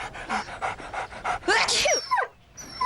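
A tiny pet dog named Pookie pants in a rapid run of short breathy puffs, close and fairly loud, then breaks into a few higher squeaky sniffs and whines indoors at a school.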